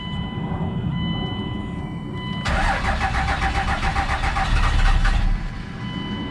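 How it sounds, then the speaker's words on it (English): A 24-valve Cummins diesel in a 1998–2002 second-generation dually pickup, just after an injector crossover tube replacement, cranks over in a loud, rapid, rhythmic churn for nearly three seconds. A steady engine-bay drone runs beneath it. "Let's go ahead and try it one more time. It should actually crank up this time."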